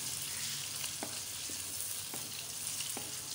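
Onions fry steadily in hot oil for a chicken biryani, a continuous close sizzle broken by a few soft utensil taps, with no talking.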